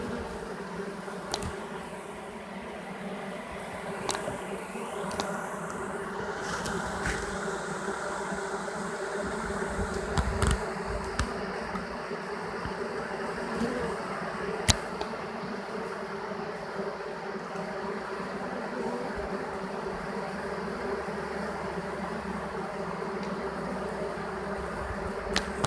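A virgin honey bee swarm holding several queens buzzes steadily, a dense continuous drone of many bees with individual insects zipping close past now and then, no talk.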